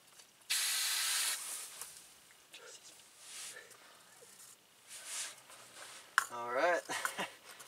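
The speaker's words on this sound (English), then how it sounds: "Just go ahead and screw that onto our propane." A propane canister is screwed onto a camp stove, bringing a strong burst of gas hiss, then softer hisses and threading clicks, with a person talking quietly near the end.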